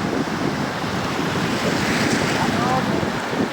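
Sea waves washing over a shallow beach, a continuous close rush of surf with wind, loud and unbroken throughout.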